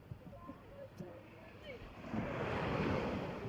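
Ocean surf at Abagatanin Beach in Agno, Pangasinan, with wind buffeting the microphone and a broad wash of waves that swells louder midway through, while a voice speaks briefly at the start.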